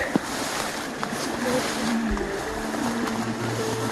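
The Desna river current flows steadily nearby, a continuous broad wash of moving water with faint low thumps and no talk.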